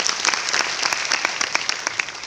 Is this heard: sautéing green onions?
no